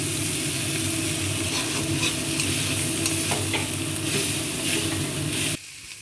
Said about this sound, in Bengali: মটরশুটিটা দিচ্ছি ভেজে রাখা ফুলকপিটা দিচ্ছি